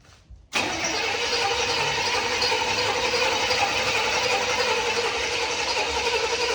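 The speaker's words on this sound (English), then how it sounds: "let's turn it over a few more times and get the bowl full in that carburetor." A 1977 El Camino engine cranks over with a steady, continuous churning drone that starts abruptly after a brief quiet moment and runs unbroken at close range.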